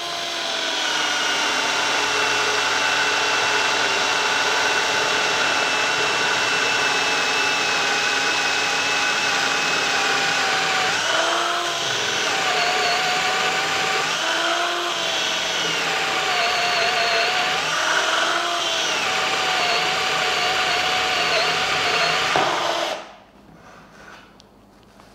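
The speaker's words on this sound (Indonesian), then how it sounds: "sekarang saya coba mata bor kipas 14 mili nih" A DCA cordless drill on speed 2 bores through wood with a 14 mm spade bit, a steady loud whirring grind running continuously for over twenty seconds with slight surges before cutting off abruptly near the end.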